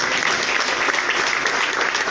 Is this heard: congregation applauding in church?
yes